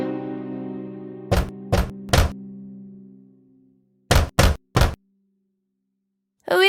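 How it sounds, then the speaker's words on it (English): In a children's fairy tale, the wolf knocks on a cottage door in two sets of three crisp, hollow raps as soft music fades out, leaving silence between the sets. "he came in front of the cottage and knocked on the door"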